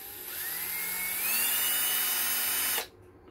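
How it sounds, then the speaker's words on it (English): A small power drill whines steadily as it bores a hole into the top of an inkjet cartridge, its pitch rising slightly as it bites in, loud and close, then cutting off abruptly. "and you drill like so."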